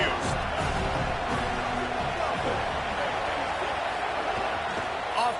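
Stadium crowd noise from a college football video game, a steady dense roar of cheering spectators filling the whole stretch, with a commentator's voice likely mixed underneath.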